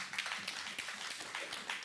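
A conference audience applauds, the clapping faint and distant, a scattered patter of hands that carries on lightly without anyone speaking.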